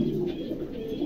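Pigeons cooing at a pigeon market, a low, throaty, continuous coo close by over a steady background hum.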